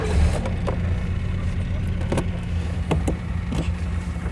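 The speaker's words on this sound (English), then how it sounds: "I'm currently in a Renault 11 and we're just pottering around the field." A Renault 11 automatic car pottering slowly around a field at a classic car festival, its engine a low steady hum from inside the cabin with a few knocks and clicks, while people talk.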